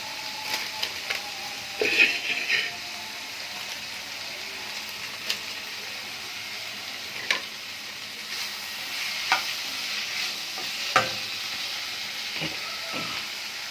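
Food sizzles and crackles in a hot pan while a utensil scrapes and taps the metal every few seconds.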